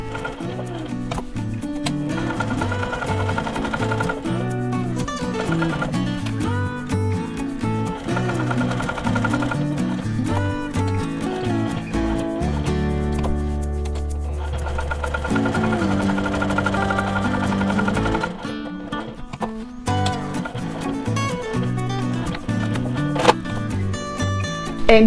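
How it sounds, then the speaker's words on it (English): A sewing machine stitching a reinforcing double line on a strap of a fabric crossbody bag, running steadily with a fast rhythmic mechanical whir that continues almost without pause and pauses briefly in the middle, under music-like tonal hum. "stitch a double line on this area to reinforce the stitching"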